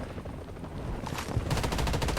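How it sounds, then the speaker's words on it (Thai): Rapid bursts of gunfire from the video game Blood Strike in quick succession, rattling like automatic weapon shots, growing louder toward the end. "ได้ยินเสียงปืนแล้วเก็บเสียงอะ่ะ"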